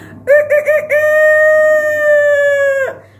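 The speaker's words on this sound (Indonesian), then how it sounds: "suara ayam berkokok pun juga sudah mulai terdengar" A rooster crows loudly and close by: a few short choppy notes, then one long, drawn-out, steady call that cuts off sharply.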